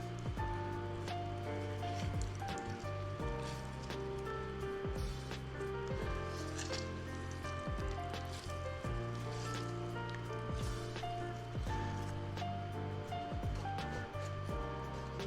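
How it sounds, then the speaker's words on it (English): Rinsed napa cabbage for kimchi is squeezed by hand, giving repeated wet squishes and water splashing and dripping into a container, fairly faint and close. "Just squeezing out the water."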